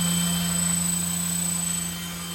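RC2211-class brushless RC motor spinning at about 5000 RPM on a test bench, a steady whining hum with a strong tonal drone and high whistle, close and continuous, easing slightly in level toward the end.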